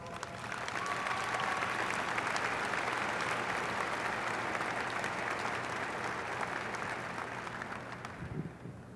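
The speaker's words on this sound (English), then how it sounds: "Let's give them one more round of applause." A large audience at a West Virginia University commencement ceremony claps in a long, even, sustained round of applause, broad and continuous before tapering slightly at the end.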